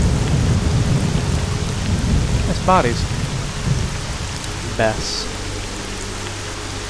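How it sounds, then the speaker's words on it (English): Steady, heavy rain and rolling thunder from a thunderstorm in the video game S.T.A.L.K.E.R.: Shadow of Chernobyl form a dense, continuous wash, with a voice speaking briefly over it. "My god, this rain. I hope it doesn't drown out my voice at all."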